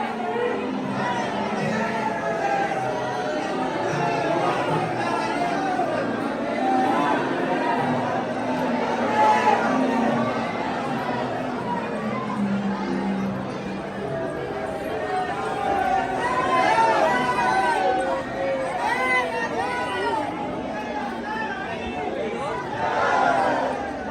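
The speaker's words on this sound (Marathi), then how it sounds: "किती गर्दी आहे बघा, किती गर्दी आहे बघा" A dense crowd chatters and murmurs at a temple in Vrindavan, a steady, loud babble of many voices close by with scattered footsteps, continuing throughout without pause.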